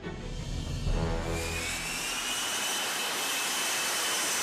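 An F-35B stealth fighter's jet engine roars through its rotating rear nozzle, a loud, sustained thrust whose rumble gives way to a high, steady whine lasting several seconds.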